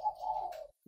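A single soft, drawn-out coo from a spotted dove kept as a cage bird, one smooth low note under a second, close and clear with no voices.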